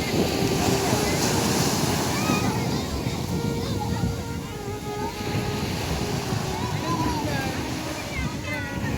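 Sea waves wash in over bare feet at Azhikode Munakkal beach, Kodungallur, at sunset, a steady loud roar of surf and water rush with wind buffeting the microphone and a voice talking over it.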